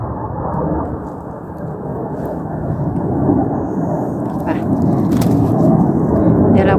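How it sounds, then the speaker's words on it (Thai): Steady low rumble of military jets droning overhead above a German forest, broad and continuous, slowly swelling louder toward the end with no talking. "หมายแหละเสียงเครื่องบิน"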